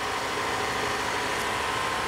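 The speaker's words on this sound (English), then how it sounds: "You see how this engine is just not happy." A car engine runs roughly and unevenly at a steady, fairly loud level with a broad hiss. It is a faulty engine after a string of misdiagnosed part swaps. Nobody speaks.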